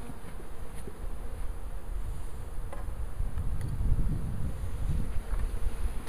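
Honey bees from a newly installed package hum and buzz steadily inside a hive box, a dense, continuous drone close to the microphone with slight swells in loudness.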